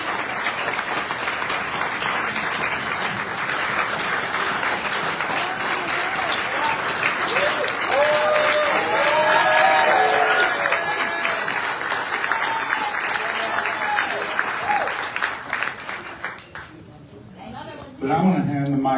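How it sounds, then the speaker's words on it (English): Audience at a public forum on the KDHX radio station crisis at Off Broadway in St. Louis gives a sustained round of applause with cheering, building then tapering off near the end. "let's have a round of applause for Miss Susan Littlefield"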